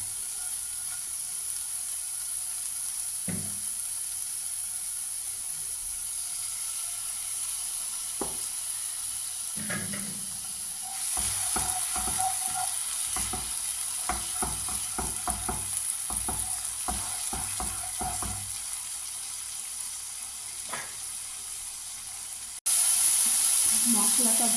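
Spice paste fries in a pan for a Bengali doi potol dish with salt added, a steady sizzle broken by repeated scraping stirs that quicken midway, then a louder burst of sizzling at the end.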